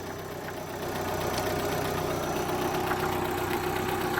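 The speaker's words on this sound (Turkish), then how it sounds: "Şimdi motoru ısınana kadar çalıştıracağız." A car engine running on LPG idles steadily with a low, even rumble and faint rattling vibration, close by and continuous throughout, with the bonnet open.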